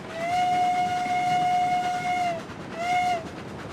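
Steam train whistle in Railroads Online giving a bridge warning: one long tone of about two seconds, then a short blast, clear and fairly close over a low rumble.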